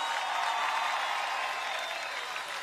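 Festival crowd at the Virada Salvador 2020 concert clapping, a broad, hissy wash of many hands heard from a distance, fairly faint and steady, fading slightly toward the end.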